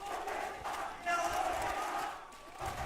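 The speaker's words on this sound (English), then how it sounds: "And the crowd just rallying behind this one round that could potentially put them into match point, Pilski." Esports arena crowd cheering and roaring during a tense round of a competitive match, a steady wash of massed voices with swells, heard at a distance behind faint speech.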